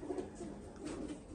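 Iraqi pigeons kept in a loft coo softly nearby, two low throaty rolling coos in quick succession over quiet background.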